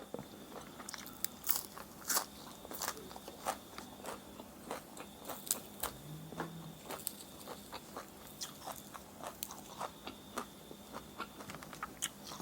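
Crunchy raw beef koi salad, the Thai-Lao dish with toasted rice and bitter dressing, chewed close up: repeated crisp bites and crunches in an irregular rhythm, fairly quiet and with no talk.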